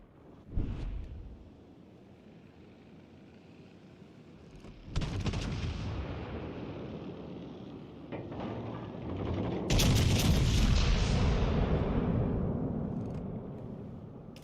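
Warship guns fire in World of Warships Legends, with heavy booming salvos at intervals over rumbling, mechanical turret sounds that build into a loud, sustained roar near the end.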